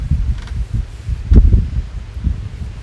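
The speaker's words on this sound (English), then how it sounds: "Windy outside right now." Wind gusts outdoors on a rainy day, heard as a low, uneven rumble buffeting close to the microphone, with a brief stronger gust midway and no talking.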